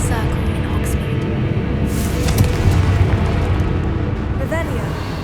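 A Confringo fire spell exploding in Hogwarts Legacy, a muffled whooshing burst and rumbling boom near the middle, set within continuous loud game ambience.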